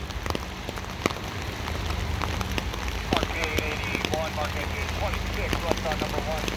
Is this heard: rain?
yes